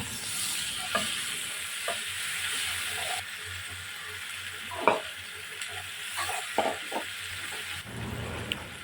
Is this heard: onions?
yes